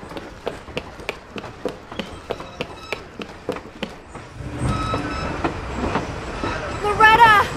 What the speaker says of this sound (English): The train's going so fast!